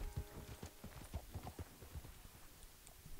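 Horse hooves clip-clop at a steady, uneven trot while riding in Red Dead Redemption 2, close and fairly quiet, with repeated low thumps over a soft background and no talking.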